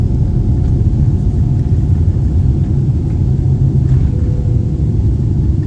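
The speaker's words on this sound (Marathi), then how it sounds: "आणि हाय उडी झाली विमान" Loud, steady engine roar with deep rumble holding constant throughout as a jet airliner takes off, with no voices.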